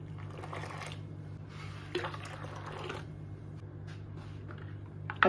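Cold water is poured into a bowl of pani puri mixture made with tamarind water and instant masala, a soft, quiet splashing trickle over a steady low background hum.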